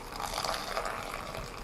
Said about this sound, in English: Pour high and then low.